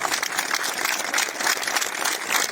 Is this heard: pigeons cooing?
no